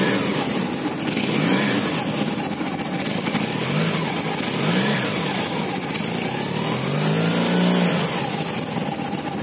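A 1985 Honda CB 450 Custom motorcycle engine with a freshly tuned carburetor and new spark plugs, running loud and close, its exhaust note rising and falling through several revs.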